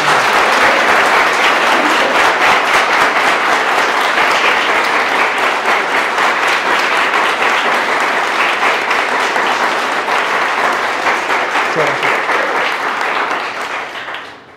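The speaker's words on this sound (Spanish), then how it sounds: "Un aplauso para Jesús, por favor." Sustained audience applause after a call to clap for Jesus during a Spanish-language talk on support networks for addicts, dense and loud throughout, fading out in the final second with no talk over it.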